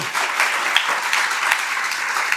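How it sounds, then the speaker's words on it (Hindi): Schoolchildren at a government girls' senior secondary school in Pataudi clapping for the principal, a brief burst of loud, dense applause with no voices over it. "एक बार जोरदार तालियां बजाकर प्रिंसिपल सर का"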